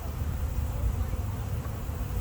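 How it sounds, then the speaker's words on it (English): Calm honeybees being moved to a new hive hum in a steady low buzz that stays even and continuous close by throughout. "I have good bees."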